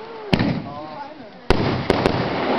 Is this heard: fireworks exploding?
yes